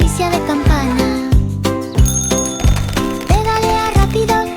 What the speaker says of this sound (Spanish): El timbre hace ding, ding, ding, ding, ding, ding, ding.